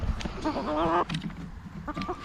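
Chickens clucking close by, with a drawn-out, wavering cackle in the middle and shorter clucks around it.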